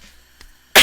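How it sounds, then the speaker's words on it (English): One sudden loud cough bursts out near the microphone at the very end, after near silence broken by a faint small sound. "Sorry, don't mean to cough in your ear."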